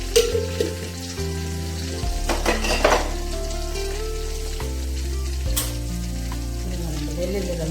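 Dried red chillies frying in a pan in a Telugu home kitchen, a steady loud sizzle broken by clinks of a spoon stirring against the metal pan, with no voices.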